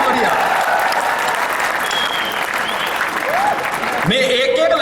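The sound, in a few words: audience applause at comedy poetry show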